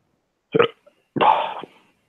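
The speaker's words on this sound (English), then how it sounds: "that was a fucking horrible burp" Two close burps in a quiet room: a short one, then a longer, louder, drawn-out belch after a brief pause.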